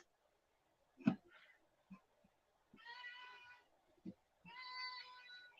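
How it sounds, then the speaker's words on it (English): A pet cat meows repeatedly and fairly close, two drawn-out cries between short bumps and clicks, while a person speaks briefly in the background. "I've got to go deal with my cat because she's been meowing at me for like half an hour"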